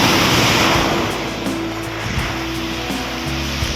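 Big sea waves crash and roll in strong wind during a super typhoon on the coast, a loud continuous roar with gusty buffeting on the microphone and no voices.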